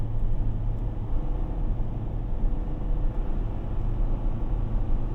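Steady road and tire noise from inside a moving 2024 Toyota Tacoma with a 6-speed manual, a low continuous rumble without speech.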